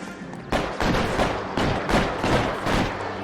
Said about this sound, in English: जबरदस्ती हो रही है फायरिंग यार. और इसका मशीन गन आई कहाँ से?